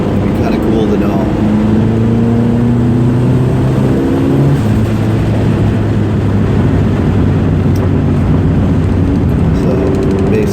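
A turbocharged car drives with a loud, continuous engine drone and shifting tones as it accelerates, with a fluttering turbo chatter mixed into the road noise while a person talks over it.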